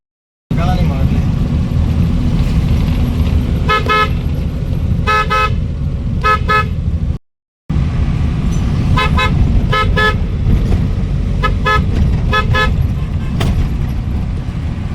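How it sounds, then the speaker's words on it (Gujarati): A repaired van horn with a replaced cutout honks in short, loud, repeated blasts, singly and in quick pairs, over a steady low engine rumble. "તો ભાઈ અમારો હોર્ન છે ને બગડી ગયેલો હતો એ બની ગયો 100 રૂપિયામાં"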